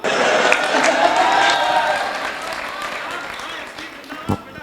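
Audience applause and cheering ring out at a Hindi kavi sammelan poetry gathering, a dense wash of clapping that starts strong and slowly fades over several seconds, with a brief sharper burst near the end.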